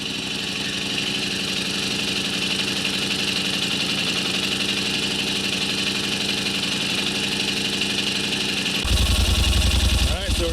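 A freshly rebuilt 2023 Yamaha Rmax UTV engine idles smoothly and steadily, then revs up louder near the end.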